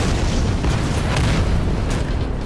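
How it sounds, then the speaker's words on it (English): Dense, booming explosions fill a short burst as missiles collide and blow up in midair in the video game Mothergunship, loud and close with no pause. "Missiles hit each other in the air."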